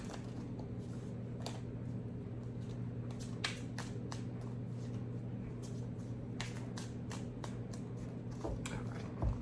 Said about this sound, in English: Thank you for being patient as I shuffle.